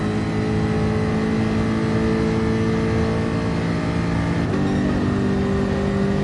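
A race car engine in Gran Turismo Sport, droning loud and steady at high revs, with one quick pitch drop partway through as the car shifts gear, no voices.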